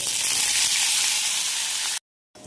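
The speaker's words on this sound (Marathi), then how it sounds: "सोडे छान असे मी तेलामध्ये 1-2 मिनिटांसाठी परतून घेतलेले आहेत." Dried shrimp (sode) fry in a little hot oil with a dense, steady hiss of sizzling up close that cuts off abruptly into brief silence near the end.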